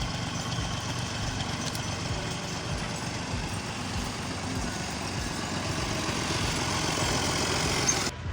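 A tractor pulling a trolley rolls in after unloading soil outdoors. Its engine rumbles steadily and grows slightly louder as it approaches, with no talking.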